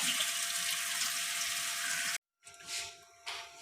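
Water runs and splashes as rinsed moringa (sohanjna) drains in a mesh strainer, a steady close stream that briefly stops, then returns in shorter bursts.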